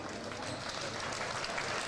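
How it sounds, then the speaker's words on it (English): A basketball crowd at a women's college game applauds a player leaving the court, a steady, moderate wash of clapping heard from a distance in the gym, with faint crowd murmur underneath. "Tyra Clark gets a nice hand from the crowd as she will sit down"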